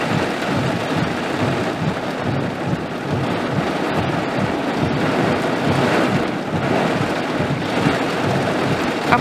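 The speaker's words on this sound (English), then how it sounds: "The rain is coming down in sheets." Heavy rain from a severe thunderstorm falling in a steady, dense roar, with low rumbles of thunder rolling underneath throughout.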